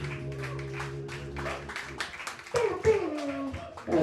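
Comedy club audience at a dive bar comedy jam claps for a comedian, a dense steady patter of hands mixed with crowd noise and a tonal hum, growing a bit louder toward the end.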